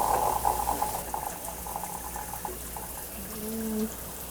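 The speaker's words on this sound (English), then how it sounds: "To do so, turn the water on." Water runs from a GROHE Euphoria SmartControl exposed shower valve into a container, a steady close rushing and splashing that fades slightly toward the end.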